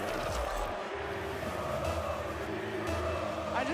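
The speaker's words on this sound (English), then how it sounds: "I just love hearing the crowd chant." A large Rocket League esports crowd at the RLCS World Championship semifinals chanting, a dense, sustained roar of many voices with rhythmic swells and a game car sound mixed in.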